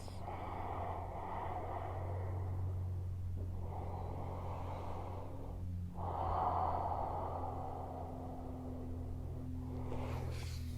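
Deep, heavy rhythmic breathing during a power yoga flow, slow inhales and exhales swelling and fading in long waves over a steady low hum, close to the microphone with no talking.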